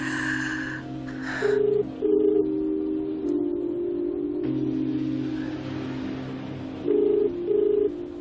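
A telephone rings repeatedly and goes unanswered, two bursts of ringing near the start and two more near the end, with a steady tonal hum in between and no voices.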